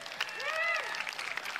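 Pickleball fans at the Fanatics Sportsbook North Carolina Cup cheer and clap, a steady wash of applause and crowd noise beneath a voice speaking close by.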